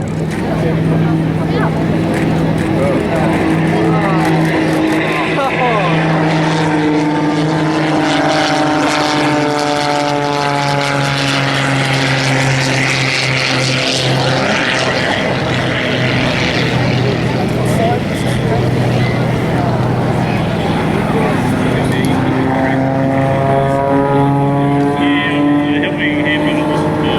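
A Spitfire propeller aircraft flies at the Wings Over Illawarra air show, its loud droning engine note rising and falling steadily as it passes, under continuous commentary from a man over a loudspeaker.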